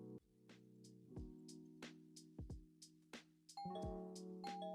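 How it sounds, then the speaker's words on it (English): A small doorbell on a handmade craft diorama of a front porch rings repeatedly, giving a series of bright chime tones with sustained ringing harmonics, close and clear with no talk. "here's our model testing out the doorbell"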